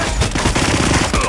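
Rapid automatic gunfire rattles continuously and loudly at close range, with dense overlapping bursts like a machine gun in a firefight.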